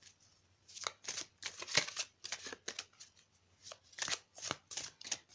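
Tarot cards being shuffled by hand close up, a steady run of crisp riffling and papery flicks with brief pauses between bursts, no voices.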